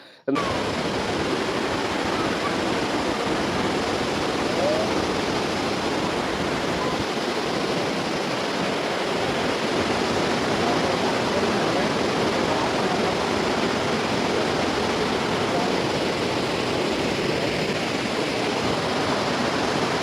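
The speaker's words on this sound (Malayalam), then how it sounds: "ഷട്ടറിനകത്തുനിന്ന് ഒഴുകുന്ന വെള്ളം കാണാൻ കയറി നിൽക്കുന്നത്" A steady, powerful roar of water rushing out of the open shutters of Mattupetty Dam floods the scene, constant and loud from start to finish with no pause.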